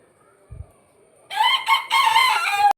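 A rooster crows once, close and loud, in a single long drawn-out call at a family home with ducks and chickens. A brief low thump comes just before it; no one speaks.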